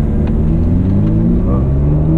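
Ferrari 458 Italia V8 moving off gently under automatic gear changes, a steady low engine drone with rising harmonic tones, close and continuous with no talk.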